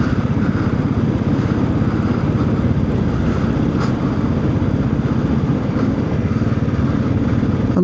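A Royal Enfield Classic 500 motorcycle riding through Matlock Bath, its engine a continuous, loud, close throbbing drone with a steady rumble and no change in pace throughout, no voices over it.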